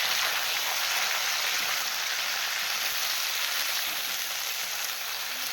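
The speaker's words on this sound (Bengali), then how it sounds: "এখন নেড়ে চেড়ে ভেজে নেব।" Drumstick stems and potatoes stir-frying in oil in a pan give a steady, dense, close hiss of sizzling that stays even throughout, with no talking.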